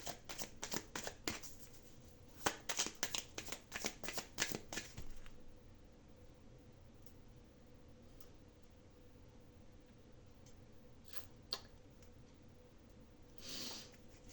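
Tarot-style cards are shuffled and drawn, a quick run of dense crisp flicks and riffles for several seconds, then quiet with occasional soft card taps and a brief rustle near the end.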